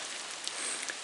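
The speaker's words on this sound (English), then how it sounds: "it looks like maybe it's just a passing shower, I'm hoping." A passing rain shower patters steadily as an even hiss, with a few faint drip-like ticks on top and no voices.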